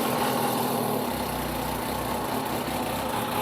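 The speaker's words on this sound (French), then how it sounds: "Alors on entend bien un gros bruit de moteur." A Kawasaki ZH2 motorcycle with about 10,000 km idles with a Leovince LV Pro carbon exhaust, a loud, steady, deep engine rumble heard up close without talk.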